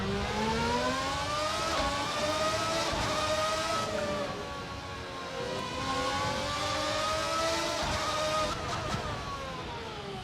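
Race car in an F1 racing video game accelerating hard, its engine note whining and climbing through gear changes in a loud, continuous roar that dips briefly before rising again.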